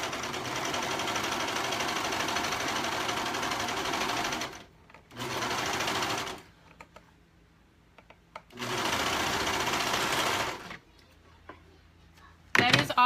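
A sewing machine stitches elastic onto fabric in several steady runs of rapid mechanical whirring, stopping and starting with quiet pauses between bursts and a short final spurt at the end.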